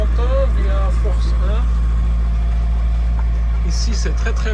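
A sailboat motors along the green coast of Euboea, Greece, under engine, with a loud, steady low engine drone throughout while someone talks over it.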